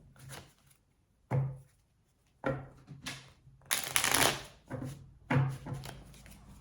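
Tarot cards are shuffled in several separate bursts of riffling and slapping, close and crisp, with short pauses between them and no talking.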